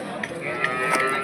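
Cattle, including HF cross cows and calves, at the Honnali weekly market in Davanagere: a short, fairly close moo rising over low market hubbub, lasting about a second.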